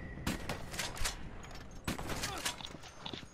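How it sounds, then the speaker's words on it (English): Gunfire from Red Dead Redemption 2 gameplay, with several sharp shots spread across a few seconds over a busy game background, and voices nearby. "Will you stop shooting me?"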